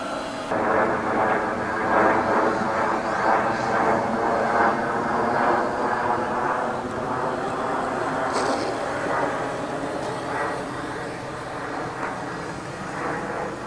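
An RC model Pietenpol airplane flies overhead while setting up to land at a hillside flying field, its engine droning steadily and loudly at a fairly constant pitch throughout.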